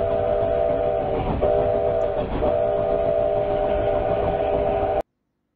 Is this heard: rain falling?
no